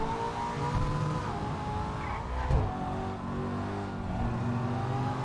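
An Audi RS3 races at high speed during a video game police chase. Its engine roars steadily and close, with a brief tire squeal around the middle.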